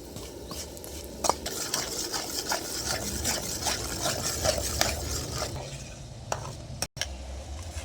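A spoon stirs jaggery and ghee in a pan with no water added, making repeated scraping strokes over a soft sizzle, close and fairly quiet, with a brief dropout near the end.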